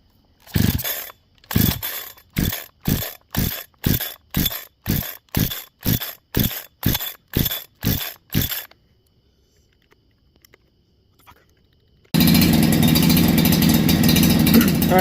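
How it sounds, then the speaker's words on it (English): Holzfforma G372 XP chainsaw fitted with a Walbro HD12 carburetor: a fast, even series of ratcheting pull bursts, a pause of near silence, then the engine bursts into a loud, close, continuous roar. "it's running right now with the new carburetor in it"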